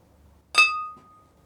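Two water-cooling parts from a PC loop knocked together in a toast give a single sharp glassy clink that rings on with a clear, steady tone and fades over about half a second, close and alone in a quiet room.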